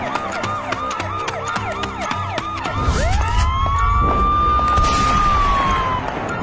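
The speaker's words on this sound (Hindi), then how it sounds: "तभी गांव में पुलिस की गाड़ी का सायरन सुनाई देता है।" A loud police car siren wails in a rapid repeating yelp, then switches to a long rising and sustained wail, close by with engine rumble underneath, in a village.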